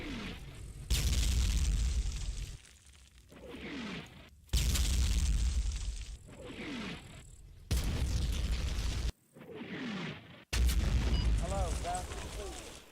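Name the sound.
3-inch mortar strike explosions in Combat Mission video game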